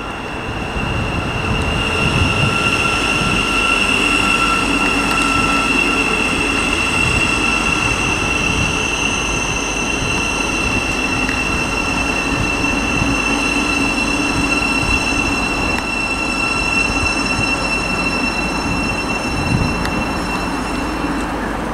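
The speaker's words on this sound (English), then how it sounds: "next to arrive is going to be the 11:46 Thameslink service to Horsham from Peterborough" Thameslink Class 700 electric unit arriving at Stevenage station on the East Coast Main Line, a loud continuous rumble with high wheel squeal and steady motor whine held throughout, close by and with no talk.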